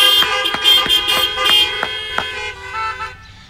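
Car horns honk at a drive-in church service, with several loud overlapping toots and beeps from different vehicles in quick, irregular succession before they fade out.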